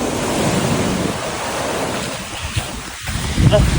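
Strong surf crashes during a stormy beach outing with wind buffeting the microphone. The roar stays loud and continuous, and a heavier wave surge builds near the end.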